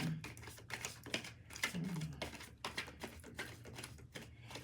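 Rapid, irregular clicking and riffling of tarot cards being shuffled, steady and close, with quick bursts repeating throughout.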